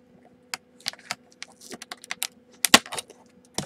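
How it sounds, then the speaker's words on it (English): Craft scissors snip through plastic toy packaging around a Thanos action figure in quick, close, irregular clicks and cuts against a quiet room. "We're going to need the craft scissors of freedom."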